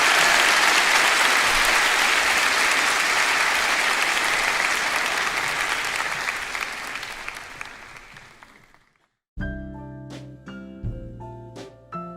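A high school youth church congregation claps loudly and densely for several seconds, the applause gradually fading to silence before keyboard or piano music begins.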